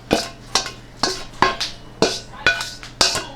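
Cooked carrots scraped and moved from a pan onto a plate, a steady series of about eight sharp utensil clinks and scrapes against cookware, evenly spaced and close.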